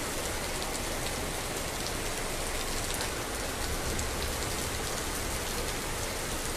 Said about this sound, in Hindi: तेज़ बारिश हो रही दोस्तों।